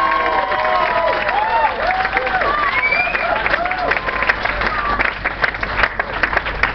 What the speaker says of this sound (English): can I have a round of applause for the bridesmaids